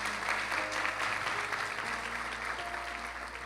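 Loud applause fills a church sanctuary during a Sunday sermon, a thick, sustained roar of clapping from the congregation over a low steady hum, with no voices.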